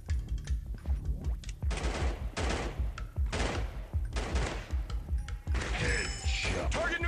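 Rapid bursts of gunfire from a mobile first-person shooter game on Android, with a counter-terrorist setting: loud repeated volleys and single shots in clusters throughout, with a game voice announcing kills between them.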